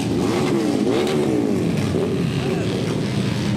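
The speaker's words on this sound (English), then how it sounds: "Hopefully people can hear us over the sound of these engines." Vehicle engines rumble and rev nearby in a July 4th Liberation Day parade, a loud continuous roar with rising revs, including motorcycles and a sidecar, with a voice talking over it.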